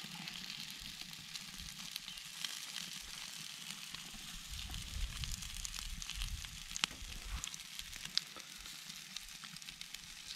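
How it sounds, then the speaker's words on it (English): Spiced lake trout sizzles quietly in a pan, a soft steady crackle with occasional small pops and a bit of stirring, no voices. "Nice sizzling lake trout with some spices on it."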